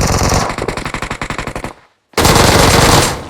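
Gunfire from PUBG Mobile: a loud, rapid automatic burst of about a dozen evenly spaced shots, a brief silent gap, then another dense, sustained stretch of loud firing.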